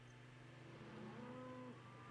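Cow moos in a video game, one drawn-out low moo lasting about a second over steady game background noise, fairly quiet.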